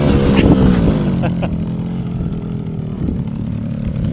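Small engine of a child's first motorsport vehicle held under throttle, a loud continuous droning buzz that stays fairly steady throughout, with faint voices mixed in.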